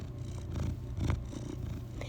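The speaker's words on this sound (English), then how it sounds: "Can you hear Janet purring?" A cat purrs steadily up close, a low rumbling drone with soft rhythmic swells, no voices.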